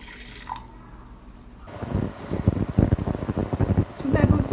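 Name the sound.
pouring a cup of water onto ground flaxseed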